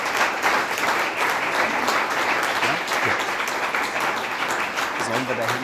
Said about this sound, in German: vielleicht von Ihnen jetzt auch einen kurzen Applaus für alle, die hierher gekommen sind